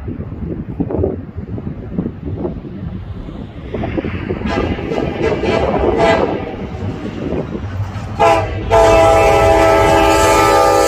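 A westbound freight train rolls past amid steady rumble and wind noise, then its horn blares loud and sustained over the final few seconds.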